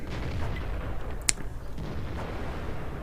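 Artillery fires in the tank game World of Tanks: a single sharp report rings out, surrounded by a low, rumbling battle ambience.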